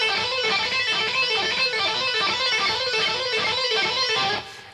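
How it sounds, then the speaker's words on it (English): A distorted electric guitar repeats a fast pull-off phrase in a steady, cycling rhythm, loud and close, ending with a brief fade at the end. "That in itself is a real good pull-off."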